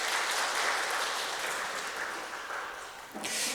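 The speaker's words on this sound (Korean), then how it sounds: "우리 박수로 한번 환영하겠습니다" A church congregation claps together to welcome a visitor, a dense, steady round of applause that holds for several seconds and then tapers off briefly before a short final burst.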